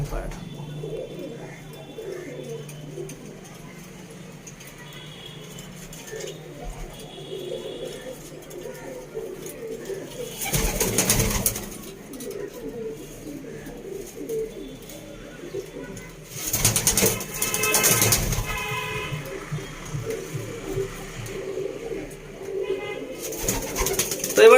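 Pigeons of Arsad and Andhra breeds coo softly and steadily in a loft, with bursts of wing flapping and scuffling, while someone talks over them much of the time.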